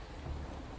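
Torrential downpour on a racing circuit at Guildford, Great Britain, in a racing video game: a steady, dense hiss of heavy rain with a low rumble underneath, running alone throughout.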